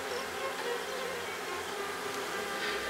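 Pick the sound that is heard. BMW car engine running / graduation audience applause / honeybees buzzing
honeybees buzzing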